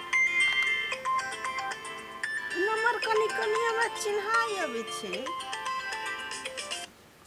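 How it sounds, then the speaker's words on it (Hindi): Mobile phone ringing with a melodic music ringtone, playing steadily and loudly for several seconds indoors while someone speaks over part of it, then cutting off abruptly. "केकर फोन चले ले"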